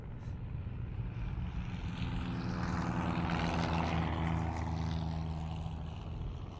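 A propeller aeroplane flies overhead beneath a blue May sky above open countryside, its steady droning engine swelling loud as it passes close, then easing slightly while still holding strong.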